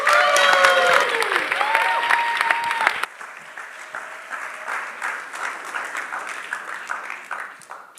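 Audience applause and cheering greet a speaker at a church preaching event, loud at first with whoops and tonal calls, then dropping sharply after three seconds to a softer, steadier patter of clapping.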